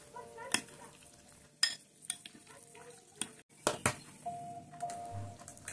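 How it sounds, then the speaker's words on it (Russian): Zucchini, meat, tomato, cheese and herb filling being stirred together in a bowl, with soft scraping and a few sharp clinks of a utensil against the dish in a quiet kitchen. "И все смешиваем вместе в мисочке."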